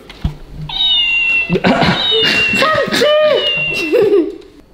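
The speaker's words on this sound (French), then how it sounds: "Non, bon, il miaule." A novelty school-supply toy cat meows repeatedly with electronic, looping tones while people laugh and talk over it close by.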